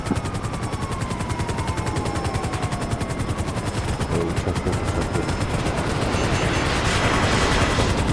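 Rapid automatic gunfire in the video game GTA 5 Online, a dense, loud and continuous stream of shots with no break, alone and without speech.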